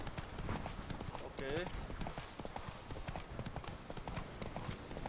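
Roach the horse galloping in The Witcher III, a steady rapid clip-clop of hooves under a game soundscape, with a brief voice in the middle.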